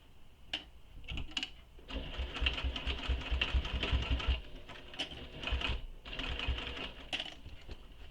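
A sewing machine stitches the seam of a fabric shoulder bag in close bursts of rapid needle chatter, stopping and starting several times with short pauses between runs.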